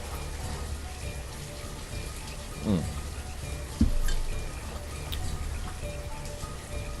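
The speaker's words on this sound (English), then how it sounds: "It's starting to rain." Steady rain patter from the city-building game Banished, a soft continuous wash of drops with a couple of brief louder knocks partway through, no talk over it.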